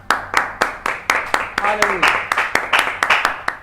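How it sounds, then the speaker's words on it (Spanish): A church congregation claps in a steady, brisk rhythm as an offering of applause, loud and close, with voices calling out over the clapping. "Démosle una ofrenda de palmas."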